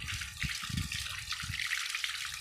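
Water runs steadily from a garden hose being rinsed out to clear algae, a continuous close splashing flow with low thuds from handling underneath.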